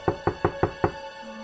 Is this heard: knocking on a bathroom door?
yes